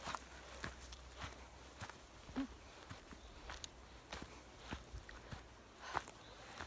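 Footsteps along a forest trail, a steady run of soft, faint crunching steps close by over a quiet outdoor background.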